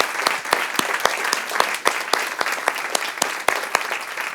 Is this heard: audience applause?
yes